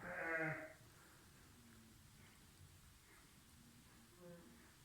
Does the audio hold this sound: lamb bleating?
yes